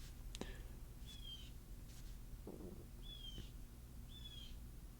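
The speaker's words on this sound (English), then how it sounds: "there's a bird outside" A few short, high bird calls sound faintly in a quiet room, spaced a second or so apart, distant as if from outdoors.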